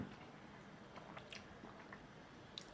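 Someone eating ramen noodles close to the microphone, with soft intermittent chewing and slurping bites over a quiet room background, no talking.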